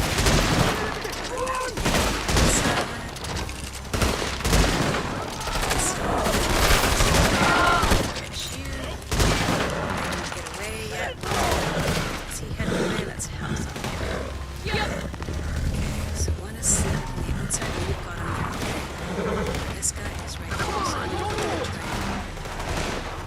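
Repeated gunfire fills a Red Dead Redemption 2 Online shootout, loud bursts and single shots cracking throughout while someone talks over the action.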